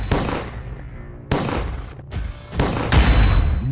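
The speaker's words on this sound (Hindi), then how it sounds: "9 गोलियां सीधे सिर में मार दी और फिर मारा गया खालिस्तानी सुखदूल सिंह सुक्" Loud gunshots in rapid succession, several sharp cracks with ringing decay, close and dominant with no other sound.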